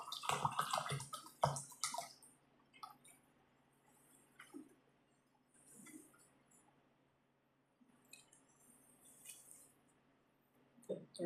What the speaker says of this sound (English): give this plant some water.